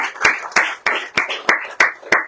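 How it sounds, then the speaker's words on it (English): At a live event in a café bistro, an audience claps for award winners, though here it comes through as a slow series of seven sharp, evenly spaced loud claps, each followed by a brief ringing decay. "Let's give another round of applause to all of the"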